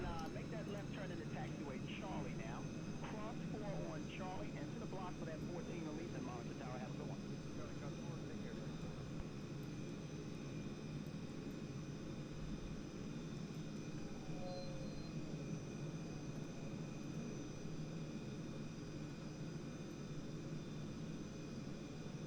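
Jet engines of a Milviz 737-200 in United Airlines livery throttle down in a flight simulator at San Francisco. A steady, fairly faint broadband roar holds throughout, with a brief voice-like warble early on.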